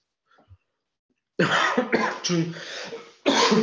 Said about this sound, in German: Und depperter Husten